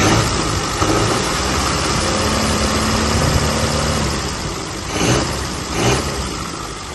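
A warm 1934 Austin Seven engine ticking over at a steady idle, close and continuous, with a couple of brief blips toward the end.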